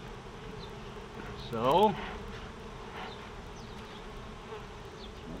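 Honeybees buzz softly around an open backyard beehive as its frames are inspected, a faint steady hum with one brief louder pass of a bee near the microphone; a voice speaks a single word.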